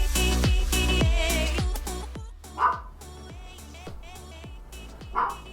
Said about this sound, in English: Sorry if you can hear a disgruntled elderly chihuahua in the background.